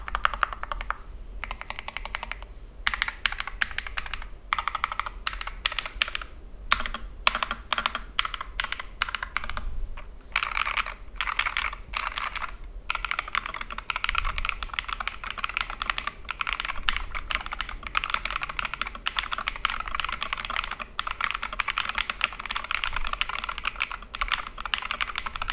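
Someone types continuously on a Madlion Mad 68 HE mechanical keyboard, producing dense, rapid, clacky keystrokes at close range for the full length with a few short pauses, and no talking.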